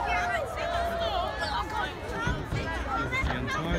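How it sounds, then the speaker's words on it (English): Dense New Year's Eve crowd in Auckland, New Zealand, a steady roar of cheering and chatter that stays loud and continuous throughout. "The entire crowd cheering right now as we enter the last few minutes"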